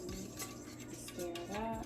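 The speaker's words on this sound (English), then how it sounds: "now I'm just going to take a stir" A spoon stirs homemade coffee in a cup, with a few quick clinking scrapes against the sides, close and quiet, with no voices.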